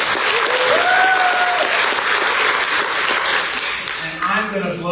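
A variety show audience applauds a singer-songwriter, loud, dense clapping with crowd noise. A voice calls out over it, and the clapping thins a little toward the end.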